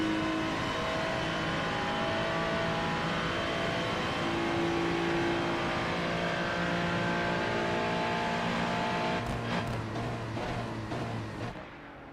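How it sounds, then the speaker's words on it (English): A Ferrari 296 GT3 engine on an onboard lap of Fuji in a sim racing game roars through repeated rising revs and gear changes. It is loud and continuous with no talk, then drops away sharply at the end. "let's have a little listen then to the engine and Max on his lap."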